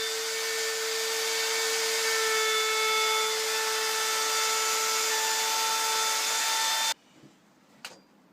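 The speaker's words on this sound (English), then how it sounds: "The inside arris of the gate frame was routed to a 45-degree bevel." A power router cuts a 45-degree bevel along the inside edge of a wooden gate frame, giving a loud, steady, high whine for about seven seconds before cutting off abruptly, followed by a couple of faint knocks.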